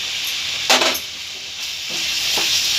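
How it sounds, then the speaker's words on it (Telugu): Chili powder frying in hot oil for a fish curry, a loud steady hiss and sizzle close by, with a couple of brief stirring scrapes and no talking. "నూనె పైకి వచ్చే వరకు బాగా వేయించుకోవాలి"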